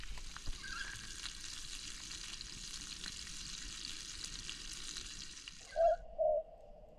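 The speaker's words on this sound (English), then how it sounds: "Better go turn me sausages." Sausages sizzling in a pan on a camp stove at a solo campsite, a steady close frying hiss that cuts out near the end, followed by a couple of short tonal squeaks.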